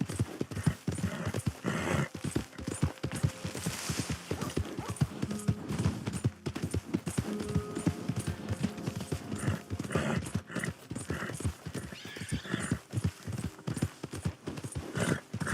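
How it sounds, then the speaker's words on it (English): Horse hooves clip-clopping in a steady, close, fairly loud rhythm over a long stretch, with brief whinnies and other sounds mixed in. "My horse!"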